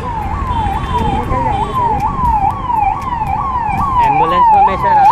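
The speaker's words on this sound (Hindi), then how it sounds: "एम्बुलेंस आ रही है" An ambulance siren wails in a rapid repeating rise-and-fall pattern, growing louder as it approaches through street traffic noise.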